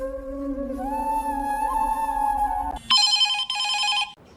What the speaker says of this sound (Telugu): ఎవరు సూరన్న ఫోన్?